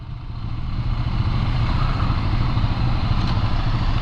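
2023 Ducati Scrambler motorcycle ridden through town, its engine giving a steady mid-pitched throb and clatter at low speed, close and fairly loud, with no talking.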